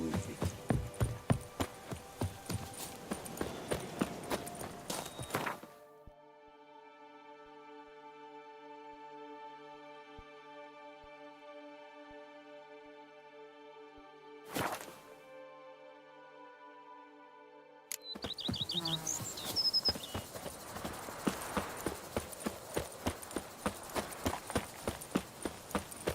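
Horse hooves clip-clopping in the video game Witcher 3, quick dense hoof strikes on a hard surface that stop for a stretch of sustained tonal drone, then resume at a brisk pace.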